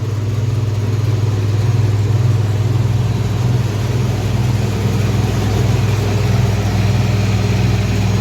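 A tractor engine runs steadily at about 1900 RPM with the PTO engaged at 540 RPM. It makes a continuous, loud, low droning hum with no talk.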